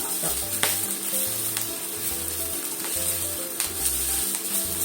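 Fried tofu pouches and green onions pan-frying in oil, a steady close sizzle with occasional soft crackles and a low recurring hum underneath, no talking.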